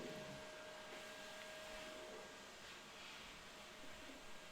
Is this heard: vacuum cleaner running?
yes